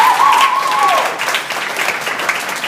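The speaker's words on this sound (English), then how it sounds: "So give the guys a round of applause." Applause for a cross country team at a banquet, a dense wash of clapping with some crowd noise that carries steadily for about three seconds, and a short whistle-like tone near the start.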